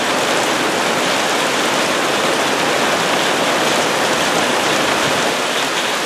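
Heavy storm rain pours down by a lake in a dense, constant hiss, loud and unbroken with no voices.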